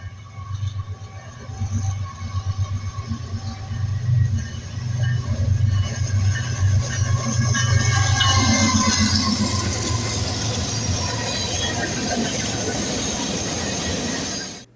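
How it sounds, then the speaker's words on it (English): A westbound Norfolk Southern manifest freight train with a fresh C6M locomotive trailing rolls past, a loud steady rumble of cars and wheels swelling midway and holding strong with faint squeal, no voices. "The first was a westbound Norfolk Southern manifest with a very fresh C6M trailing."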